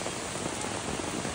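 Steady rain falls in Nagarhole forest, a dense, even hiss of drops filling the whole moment at close range with no voices.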